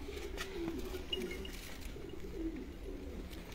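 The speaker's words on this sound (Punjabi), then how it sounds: "ਇਹ ਤਾਂ ਮਤਲਬ ਕਿ ਫੈਸਲਾਬਾਦੀ ਕਬੂਤਰ ਹੈ ਜੀ" Low, soft coos from a Faisalabadi pigeon, a champion bird from Faisalabad, come in a few short calls spread across a steady, faint hum of surroundings, quiet and somewhat distant with no talk.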